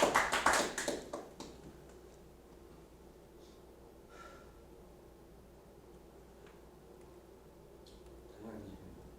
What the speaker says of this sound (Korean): 경북 박수 한번 칩시다